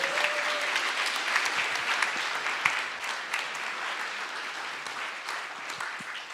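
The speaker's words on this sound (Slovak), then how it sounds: "ďakujeme veľmi pekne, potlesk pre Simona" Audience applause for Simon at a live hackathon final, a steady dense patter of many hands clapping throughout, moderately loud and fairly even, with no speech over it.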